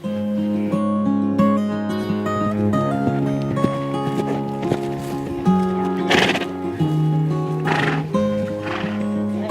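A horse whinnies and neighs in a couple of loud, close bursts over steady tonal background sound, with no talking.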